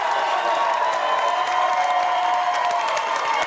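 Studio audience at a New Year's Eve television variety show applauding its guests, a steady dense wash of clapping with cheering mixed in, loud and sustained throughout.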